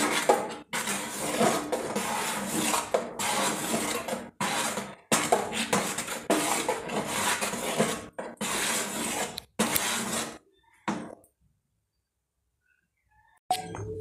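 Ration rice flour dough stirred in a pan for murukku vathal, heard as close, loud scraping and rubbing strokes against the metal in repeated bursts with short pauses, fading to near silence at the end.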